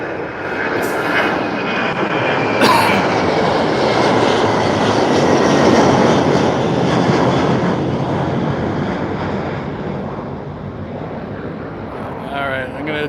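An airplane roars on takeoff and climbs, a loud broad engine rumble that builds, holds and slowly fades, while people talk nearby.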